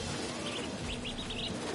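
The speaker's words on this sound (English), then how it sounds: "I need to shoo this bird back to wherever it came from." A white-throated bee-eater calls in the Spider-Man 2 video game, a few short, faint chirps over a steady hiss of game ambience.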